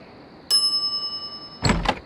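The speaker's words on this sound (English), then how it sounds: "some idiot's already ringing that stupid bell" A counter bell in The Secret of Monkey Island rings once with a bright metallic ting that lingers and slowly decays, followed by a short burst of other noise near the end.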